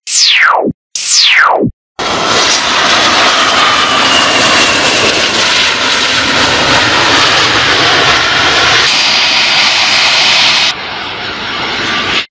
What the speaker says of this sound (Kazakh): Дұрыс таптыңдар, бұл ұшақ.